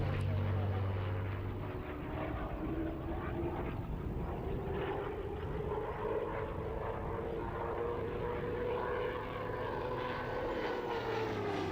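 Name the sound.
P-63 vintage piston-engine aircraft flying at an air show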